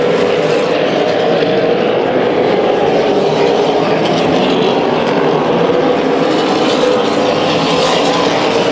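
Super late model race cars roar around a short oval track at Las Vegas Bullring, a loud, continuous engine drone from the packed field that never lets up.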